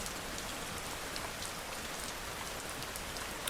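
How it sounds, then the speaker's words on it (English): Soft, steady rain falls evenly throughout, a constant hiss of drops on surfaces with no voices, played as a calm background bed. "Keep it with the rain."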